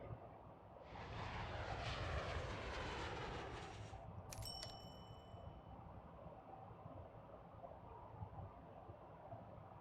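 An airplane in a transport simulation video game drones steadily. The engine noise swells for a few seconds and then eases back, and a brief bright chime rings partway through. The sound is faint and has no talk over it.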